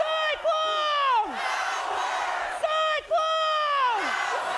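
A large college football crowd at an Iowa State game chants "Cyclone" in two loud, rising-and-falling shouted waves, voices massed together and near, with a brief gap between the chants.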